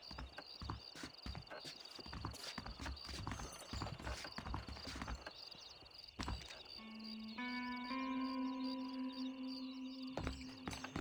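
Horse hooves clip-clop steadily in the Red Dead Redemption video game, a busy run of close hoofbeats with a faint whinny. A sustained tonal musical score comes in partway through, and a voice is briefly heard.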